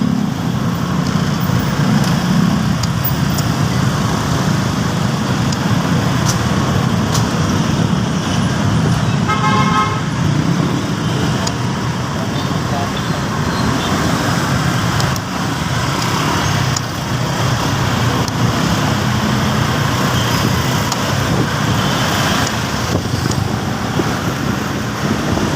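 Steady road traffic on a busy street, with continuous engine rumble and passing cars, plus a short run of horn toots partway through; loud, near and without a break.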